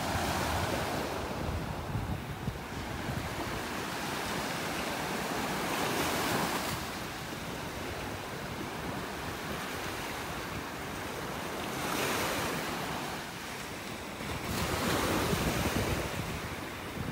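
Surf rolls and breaks steadily on a Gulf beach in North Naples, Florida, a continuous wash with swells cresting every few seconds under heavy wind buffeting the microphone.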